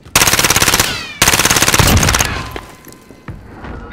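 Loud automatic gunfire in the Warzone video game, two rapid bursts of close shots followed by a few fainter scattered shots and echoes.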